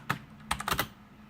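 A few quick keystrokes on a computer keyboard, one isolated tap followed by a short cluster of clicks, close and quiet in an otherwise silent room.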